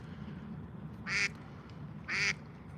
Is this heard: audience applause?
no